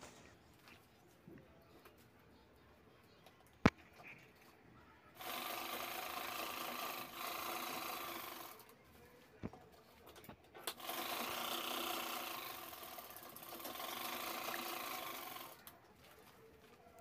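Sewing machine stitching up the sides of a cut rice bag, heard in two long steady runs of loud, continuous whirring separated by a short pause, with a couple of sharp clicks before the first run.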